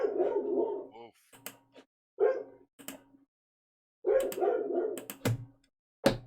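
A dog barks and yips in short bursts during an indoor tabletop game session, loud and close, mixed with people talking.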